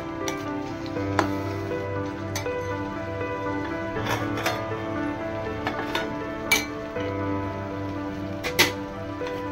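A pot of chicken curry with chukkakura being stirred after tomato puree goes in, a steady background hum with sporadic metallic clinks and taps of the spoon against the pot throughout.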